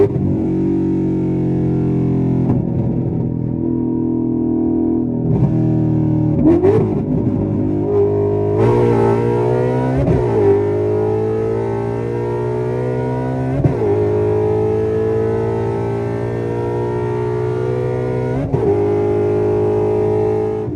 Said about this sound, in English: this unique engine that revs up a lot higher, sounds freaking awesome